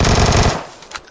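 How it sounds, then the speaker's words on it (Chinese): A rapid, loud burst of AK rifle fire in an online shooter game, with tightly spaced shots for about half a second, then fading echoes. "又被我 AK 打了一枪"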